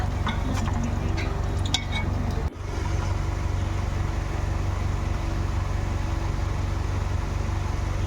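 Softened dates being stirred and mixed in a pan for a dry fruit laddoo, a steady low scraping drone with a faint rattle early on and one brief pause partway through.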